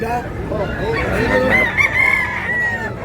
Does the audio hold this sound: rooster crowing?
yes